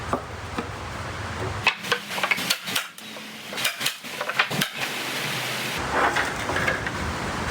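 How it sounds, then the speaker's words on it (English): Steady rain patters down outdoors, a dense hiss with scattered sharper taps and knocks mixed in, fairly close and continuous throughout. "the rain's starting to come down"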